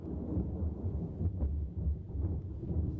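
Thunder rolls through as a deep, loud, sustained low rumble across the whole stretch, swelling in several heavier surges without any voices over it.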